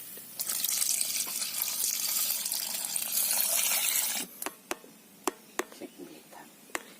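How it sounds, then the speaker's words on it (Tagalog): Coconut milk pours steadily into a pot for about four seconds, then stops, followed by a few scattered drips and light clinks. "Yan, ilagay na natin yung gata natin."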